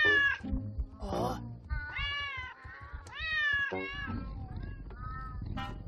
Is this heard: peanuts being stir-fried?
no